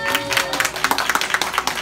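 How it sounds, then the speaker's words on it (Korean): A congregation at a youth church service claps in brief, scattered applause that lasts under two seconds, with no speech over it. "영상으로 소개해주신 우리 신재영 선생님한테 박수로."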